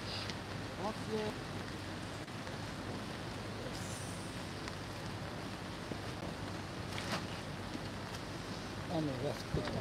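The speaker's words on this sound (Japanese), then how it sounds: "雨が降ってきました。" Rain falls outdoors at a park in Sumida, Tokyo, during a memorial gathering, a steady, dense wash of patter that runs throughout beneath people talking.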